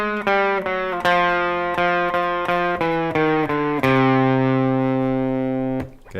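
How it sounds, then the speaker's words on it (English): Electric guitar playing the opening measure of a song through effects and distortion, a run of sharp picked notes in steady rhythm ending on a long sustained ringing chord, loud and close with no talking. "So if I play the whole first measure"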